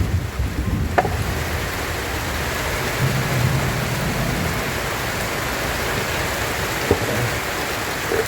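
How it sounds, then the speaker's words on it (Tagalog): Heavy rain in the provinces pours down in a dense, constant hiss, with an occasional distant rumble beneath it. "Biglang lumakas yung ulan"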